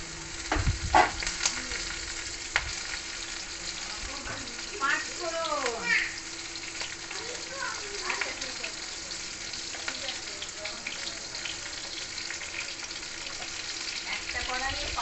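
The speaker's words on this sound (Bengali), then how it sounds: "একটা কড়াইয়ে পাঁচফোড়ন আর একটা কড়াইয়ে জিরে ফোড়ন।" Panch phoron and cumin crackle and sizzle in hot oil in a wok, with bursts of spluttering and a steady fry beneath, while a person talks over it.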